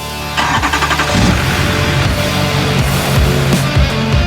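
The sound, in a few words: diesel engine starting up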